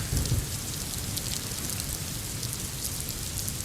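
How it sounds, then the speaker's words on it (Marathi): Heavy monsoon rain pours at Uran railway station in Navi Mumbai, a dense, steady hiss of downpour on surfaces that is loud and unbroken throughout, with no voices. "जोरदार पावसाला सुरुवात झालेली आहे"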